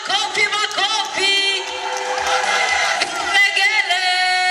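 Crowd at a constitution launch ceremony cheering with high, wavering ululation and clapping, loud and sustained throughout, with overlapping trilling voices near and far.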